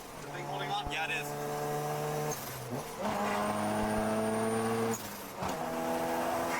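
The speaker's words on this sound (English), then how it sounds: "Oh my god, this engine, man." A car engine revving hard in the street, with loud sustained tones that climb and then drop between gear changes, repeating several times.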